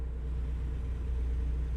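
A low, steady truck engine drones on a highway in a truck-driving video game, a continuous quiet rumble with no talk.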